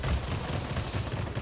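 Aircraft guns in the World of Warplanes game fire in a dense, rapid stream of shots, a loud continuous burst with no speech over it.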